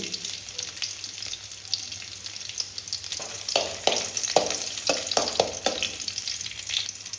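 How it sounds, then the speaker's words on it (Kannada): Garlic fries in a spoonful of ghee in a pan, a continuous close sizzle joined in the second half by repeated scraping strokes of a spoon stirring against the pan. "ಈಗ ಅದೇ ಬಾಣಲೆಗೆ ಒಂದು ಸ್ಪೂನು ತುಪ್ಪ ಅದಕ್ಕೆ ಒಂದು ಸಳು ಬೆಳ್ಳುಳ್ಳಿ"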